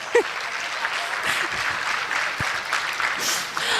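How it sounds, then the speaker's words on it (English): Crowd at a Kabarak Law School alumni homecoming and anniversary event applauding graduates, a steady, full wash of clapping held throughout at moderate loudness, with faint voices mixed in. "Please, let's clap for them again."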